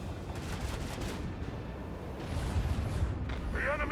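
Starship macro cannons and torpedoes firing in the Warhammer 40K Rogue Trader game, a dense rumbling barrage of booming blasts that swells louder toward the end.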